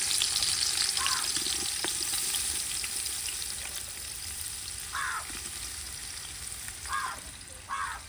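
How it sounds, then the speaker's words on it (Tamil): Onions frying in hot ghee with cinnamon and cloves make a steady, close sizzle throughout, with a few brief scraping stirs breaking through at intervals. "இது கூடவே வந்து நான் வெங்காயம் போட்டுக்கிறேன் ரொம்ப நல்லா காஞ்சிருச்சு நெய்யும் காஞ்சிருச்சு"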